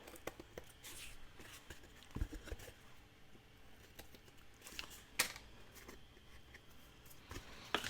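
Scissors or a blade trim the end of a mixed media canvas cover, producing sparse, close snips and crisp paper-like rustling with scattered small taps.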